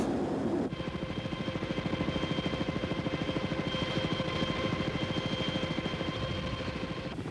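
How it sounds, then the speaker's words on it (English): Military helicopters in a Marine amphibious beachhead exercise thump with a steady, rapid rotor chop that starts abruptly and holds loud and close, joined by a whining turbine tone, with no talk. "This is one of the Marines' specialties, establishing a beachhead by helicopter."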